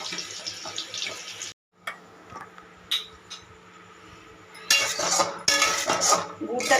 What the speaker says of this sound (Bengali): এবার আমি একটা অনবরত নাড়তে থাকবো।